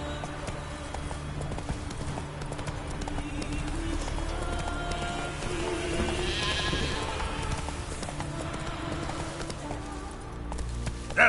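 Roach, a horse in The Witcher 3, trots with a steady clip-clop of hooves beneath a constant bed of game ambience and music, moderately loud and unbroken throughout.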